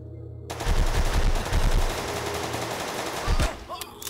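Rapid machine gun fire from the Heat Guardian video game, loud and close, with sustained bursts and a brief pause before another short volley near the end.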